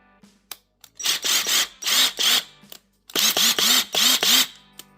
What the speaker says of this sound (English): here is a C3 heavy duty impact at a 1/2 inch